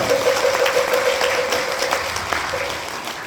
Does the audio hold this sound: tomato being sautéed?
no